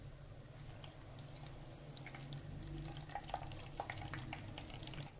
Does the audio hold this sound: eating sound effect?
no